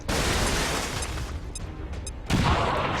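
A grenade bursts in the XCOM 2 video game with a loud, rumbling boom that decays over about a second, followed by a second blast and crackling debris.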